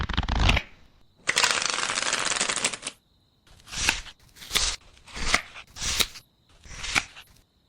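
Tarot cards being shuffled close up: a short riffle, then a long continuous flutter of cards, followed by five or six brisk separate shuffles and taps with quiet gaps between them.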